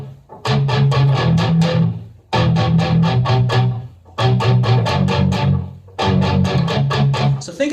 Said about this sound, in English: You're doing 3 palm mutes, and then you're doing 3 palm mutes again with a pause in between.